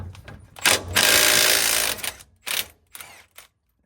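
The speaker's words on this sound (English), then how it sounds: "we're gonna get our socket on the left side and our impact on the right side" An impact wrench with a socket removes a skid plate bolt, firing a loud close rattling burst of about a second, then shorter hammering bursts and a few clicks before stopping.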